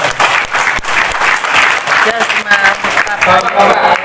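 An audience at an offline sharing session claps on request, loud close clapping under a steady murmur of voices and some talk, continuing for several seconds.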